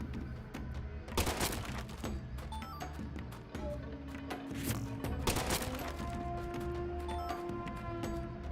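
Rapid gunfire in the video game Deadly Premonition 2 crackles in repeated bursts of sharp shots over a steady background layer of game music.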